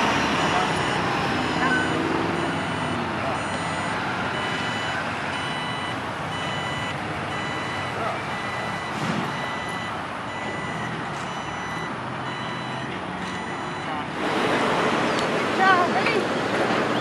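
A truck rumbles nearby while a reversing alarm beeps steadily; a voice speaks faintly through the noisy outdoor scene.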